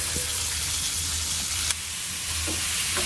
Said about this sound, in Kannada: 1 ಈರುಳ್ಳಿ, 2 ಟೊಮೆಟೊ, ಅಷ್ಟು ಕೊತ್ತಂಬರಿ ಸೊಪ್ಪು ಹಾಕ್ಕೊಂಡು ಫ್ರೈ ಮಾಡ್ಕೊಳ್ಳೋಣ ಒಟ್ಟಿಗೆ